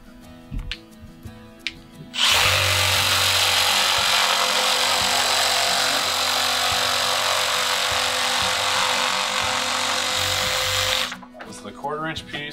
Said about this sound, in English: We're just going to make a couple quick straight cuts on these with the tool